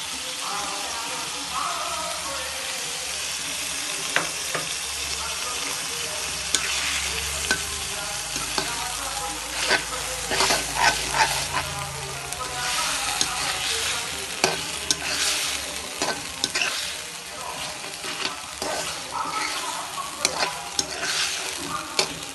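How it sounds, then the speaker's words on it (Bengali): Eggs are stir-fried in a pan with a ground mustard paste mixture, a continuous sizzle and spatter under repeated scraping strokes of the stirring utensil. "সরিষা বাটার এই মিশ্রণটি দিয়ে কিছু সময় ডিমের সঙ্গে এই মিশ্রণটি কষিয়ে নিব।"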